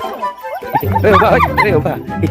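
A dog barks and yips in short, high bursts close by, mixed in with people talking.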